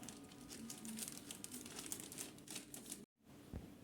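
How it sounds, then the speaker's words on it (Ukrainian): Steady crinkling of a plastic bag, continuous and close, broken by a brief silence near the end before a few more rustles. "Третій шматочок я чіпаю е, немитими руками і кладу в пакет"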